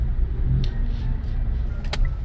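Low, steady engine rumble of cars creeping through bumper-to-bumper city traffic in the Philippines, heard from inside a vehicle, with a brief faint higher noise near the end and no talking.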